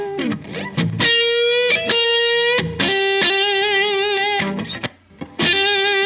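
Distorted electric guitar from a Quad Cortex plays sustained chords and riffs through a compressor, loud and continuous, with short pauses between phrases and a thick, evened-out tone.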